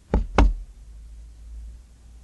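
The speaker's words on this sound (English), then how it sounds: "Matthew crept upstairs and tapped on the door of the east gable" Two quick, sharp knocks on a bedroom door in an old farmhouse gable room, close and distinct, followed by quiet.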